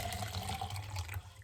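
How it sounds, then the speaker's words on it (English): Filtered water is poured steadily into a cup, a close, continuous splashing trickle with a low rushing undertone that tapers off at the end. "This is the one that I'm gonna put water in now from the newer one."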